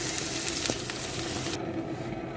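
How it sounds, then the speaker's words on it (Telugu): Pieces of fried fish drop into hot masala in a pan and set off a loud, steady sizzle that cuts off sharply partway through, with a few quick stirring clicks. "ఇప్పుడు ఈ ఫ్రై చేసి పెట్టుకున్నాం కదా చేప ముక్కలు వేసేసుకుంటాము"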